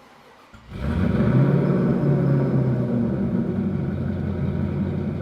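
A restomod 1991 GMC C1500 pickup truck engine turns over and catches, then settles into a loud, steady rumbling idle close by.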